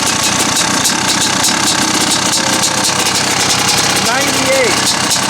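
A Honda CR500 motorcycle engine running after a water pump repair, having sat unused for years, holds a loud steady idle with a rattly mechanical texture while someone talks over it.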